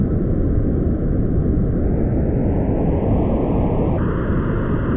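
Spaceship engines in Kerbal Space Program roar in a steady, loud rushing drone while throttling up, the tone rising slowly and stepping up sharply near the end, with no voices.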